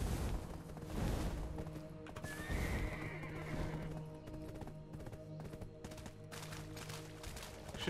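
A horse in the video game Black Desert Online neighs loudly amid steady hoof clip-clops and busy background noise, with a sharp whinny standing out partway through.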